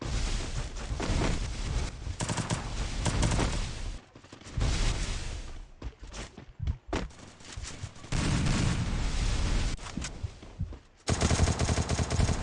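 Dense bursts of automatic gunfire, with some booms, come from a battle royale video game in an esports semifinal match. The firing is loud and nearly continuous, with a few brief pauses before it resumes.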